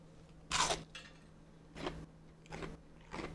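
Crunchy fried shrimp tempura, fresh from the fryer, is bitten into: one sharp loud crunch followed by three quieter crunchy chews spaced about a second apart, close to the mic with no talking.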